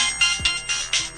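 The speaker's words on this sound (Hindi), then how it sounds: "ये किसका फोन आ रहा है नया नंबर?" A mobile phone ringtone for an incoming call: a loud bright electronic chirping tone in quick repeated pulses, about five bursts in just over a second.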